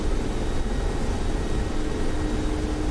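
A Mi-24P Hind attack helicopter in the DCS flight simulator gives a loud, steady roar of engine and rotor noise on a short final approach to a runway. The sound runs continuously without breaks, and no voices are heard.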